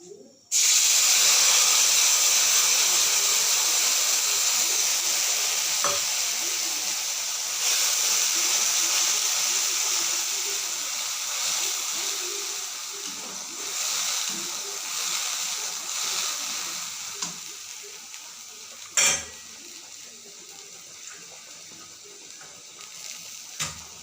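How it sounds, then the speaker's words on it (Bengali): A mustard and poppy seed paste with turmeric is poured into a hot pan, setting off a loud, steady hissing sizzle that slowly eases over about twenty seconds, with a few clinks of utensils. "সর্ষে পোস্ত গোলা এটা আমি ঢেলে দেবো"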